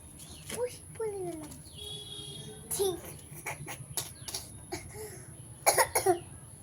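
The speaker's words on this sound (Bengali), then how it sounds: "বাবা কাশি হয়েছে" A child coughs several times in short, sharp bursts, with a small voice speaking between them, close by and fairly quiet.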